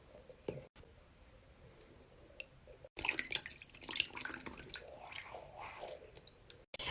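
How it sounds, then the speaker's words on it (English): Confetti-filled fidget balls being washed in a sink of water, with soft squishing, splashing and dripping that comes in bursts, fairly close and quiet, with no talking. "Okay, I think that's enough water, so I'm gonna put the balls in now."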